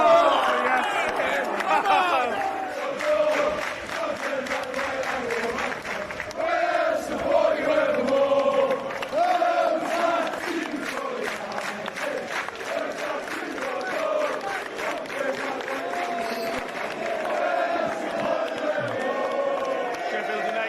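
Roaring football crowd cheering at Newcastle United versus Sheffield United, a dense sustained roar with swelling shouts, under excited talk throughout.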